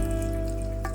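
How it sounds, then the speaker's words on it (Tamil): Mushrooms frying one by one in hot oil, a steady close sizzle with a sharper crackle near the end. "ஆயில் சூடான பிறகு 1 by 1 எல்லா மஷ்ரூம்ஸையும் நம்ம இதில் ஆட் பண்ணிக்கலாம்"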